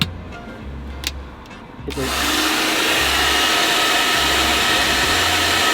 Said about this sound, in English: I like a good hairdryer